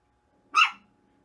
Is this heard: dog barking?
yes